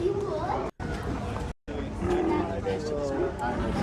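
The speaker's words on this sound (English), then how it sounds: "I can hear the seals barking." Seals barking at a zoo, rough honking calls rising over a busy crowd with people talking throughout, broken by two brief dropouts.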